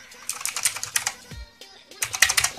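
Typing on a Gamepower Warlock mechanical keyboard with blue switches, bursts of crisp, close clicky keystrokes in quick irregular runs with a brief pause midway.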